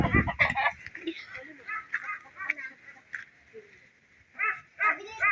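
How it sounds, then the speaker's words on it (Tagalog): Two chickens clucking and squawking nearby in repeated short bursts, with people talking and a dog-like bark mixed in at the start. "Look, 2 chickens."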